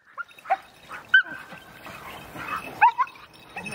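Small Münsterländer hunting dogs bark and yip in short, scattered bursts at close range, with a few whimpering tones between the barks and no talking.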